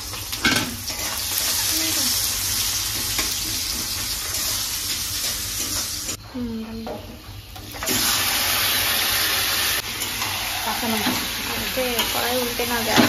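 Chicken sizzles and frying in a wok (kadai) in a home kitchen, with steady hissing and scraping stir strokes throughout, the frying briefly quieter midway before resuming at full strength, with faint voices in the background.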